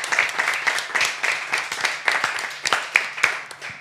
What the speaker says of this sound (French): Je vous demande d'applaudir François